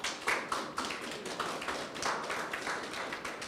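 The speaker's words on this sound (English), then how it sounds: "Let's give them a round of applause." An audience at a grant awards ceremony applauds the recipients: a dense, steady wash of many hands clapping at moderate distance for several seconds, with no talking.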